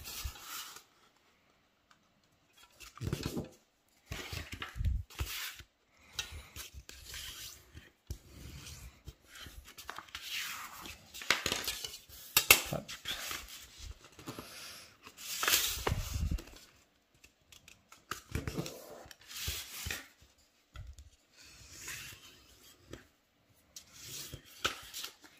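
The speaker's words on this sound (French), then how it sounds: "Là, je vais faire mes plis" Paper being folded into origami creases for a card holder, with repeated soft rubbing and crinkling strokes in bursts, close and fairly quiet, no talking.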